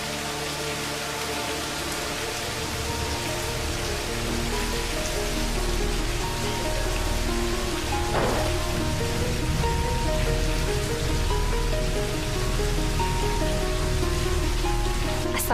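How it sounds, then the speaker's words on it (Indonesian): Steady, heavy rain pours onto a surface, a dense continuous hiss of drops with an even patter throughout and no voices, holding loud and unbroken for the whole stretch. "Hujan-hujan begini?"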